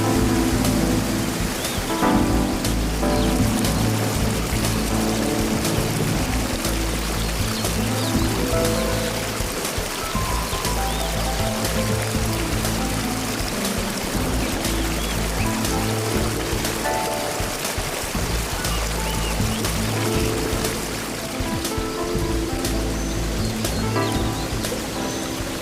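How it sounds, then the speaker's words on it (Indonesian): Clear mountain water streaming and splashing into ponds and lakes at the foot of a mountain along the Ciliwung river, a dense, steady rushing hiss that runs unbroken throughout, with no speech. "Air pegunungan yang jernih dan terasa segar mengisi telaga,"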